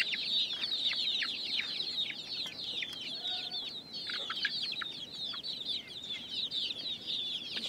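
Hens on a Bangladeshi farm, kept under a rooftop shelter, keep up a continuous stream of high, busy clucking and chirping calls at moderate volume, with no voices.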